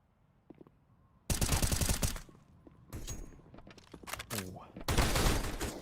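Pistol fire in a Counter-Strike match arrives in several loud, rapid bursts of close shots separated by short quiet gaps, with a commentator talking between the bursts.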